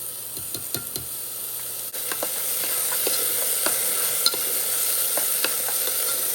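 Minced garlic sizzles in a hot pan as a steady, fairly loud hiss scattered with small crackles and pops, plus an occasional faint knock.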